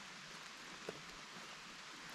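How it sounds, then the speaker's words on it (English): Steady rain falls in the woods near a cabin in the Poconos, a soft continuous hiss with no talk. "Rain's picking up."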